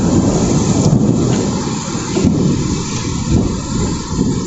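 Heavy storm in Jashore, Bangladesh: a dense roar of pouring rain and gusting wind with deep rumbles of thunder, loud and continuous throughout.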